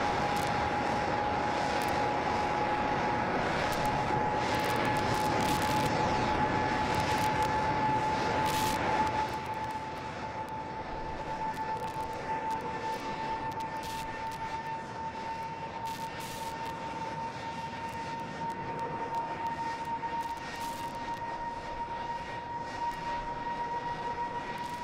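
A SpaceX Starship rocket vents with a steady, broad rushing hiss under a constant tonal hum, loud at first and easing slightly to a sustained roar, with no talk.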